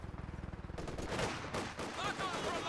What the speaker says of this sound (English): RAF squad getting suppressed by the MG34